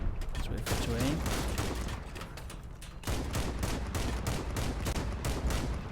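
Rapid, continuous gunfire rattles in the vehicle combat game Crossout, a steady close barrage with brief dips, the firing constant across the whole stretch.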